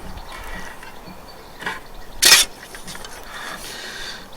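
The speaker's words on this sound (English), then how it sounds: "pull up on these and bend." Metal strips being bent by hand for new Bedford truck parts, with a single sharp metallic ratcheting burst midway and a softer knock just before, over a quiet workshop background.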